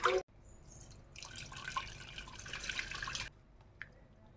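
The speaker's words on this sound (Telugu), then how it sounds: "ముందుగా మనం పక్కకు తీసుకున్న పప్పులోని వాటర్ దీంట్లో వేసేస్తున్నాను మొత్తం" Cooking water drained from boiled lentils is poured into a small bowl, a close continuous splashing trickle that stops abruptly, followed by a faint clink.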